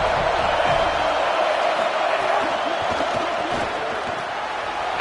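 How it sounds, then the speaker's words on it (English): Stadium crowd noise from a college football video game, a broad steady roar of cheering fans that holds at a constant level throughout with no clear peaks or breaks. "This crowd ready to make its presence known"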